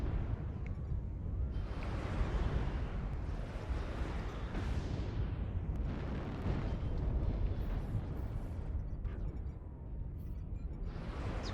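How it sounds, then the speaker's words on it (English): Laser fire from a Nova mech jumping and shooting in MechWarrior Online, with dense, roaring bursts of weapon fire and explosive rumble that rise and fall in overlapping waves, continuous and fairly loud throughout. "one of the cool things about the Nova is the ability to pop tart laser like you see here"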